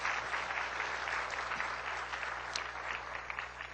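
Church congregation applauding after a sermon, a dense, steady wash of clapping from many hands that stays fairly distant and even for several seconds with no talking.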